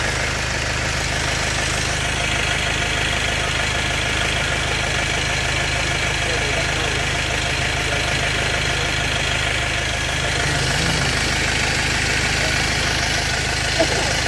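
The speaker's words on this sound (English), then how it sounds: "start the engine" A Vauxhall van with a white smoke problem idles, its engine giving a loud, steady, close rumble with a faint knocking texture throughout. A voice may be present beneath the engine.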